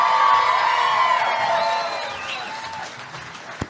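A crowd claps and cheers loudly at a bass fishing tournament weigh-in, dense applause with whoops that gradually thins and fades over a few seconds.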